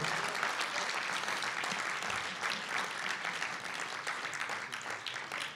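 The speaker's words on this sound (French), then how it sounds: "On applaudit Dieu." Sustained applause from a church congregation during a sermon, a dense, even clatter of many hands clapping for several seconds.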